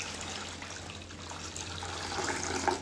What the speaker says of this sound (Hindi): अभी लेते हैं बड़ा बर्तन और इसमें डाल देते हैं पानी।